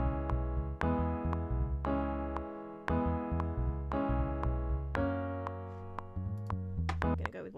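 A keyboard-style instrument plays a chord progression moving between the IV chord and the minor ii chord before landing on the V, with steady struck chords over a low bass line, every beat in rhythm and no voices.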